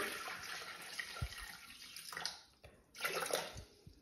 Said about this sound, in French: Donc 400 g d'eau directement dans le bol.